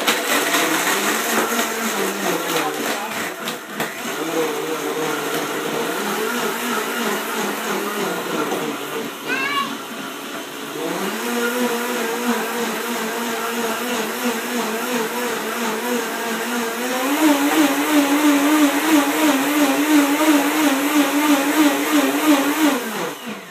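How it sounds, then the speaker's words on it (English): A Blendtec blender whirs loudly and steadily as it blends a smoothie with ice, its motor pitch shifting as the ice breaks up and rising near the end, with no talking. "You just press number 2 on your Blendtec and it turns into a smoothie."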